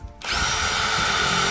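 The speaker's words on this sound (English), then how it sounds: "You might have to drill about halfway through and push forward." A power drill spins up sharply and bores steadily into a plastic 5-gallon bucket, a loud, continuous whine close by with no talk over it.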